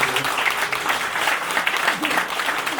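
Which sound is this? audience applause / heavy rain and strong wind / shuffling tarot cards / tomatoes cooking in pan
audience applause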